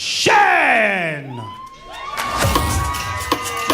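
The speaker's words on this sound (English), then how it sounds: "Now you can hear from the crowd" A boxing match crowd at a SportPesa Rising Stars event cheers and whoops loudly, shrill yells and shouts rising in waves over a busy arena din.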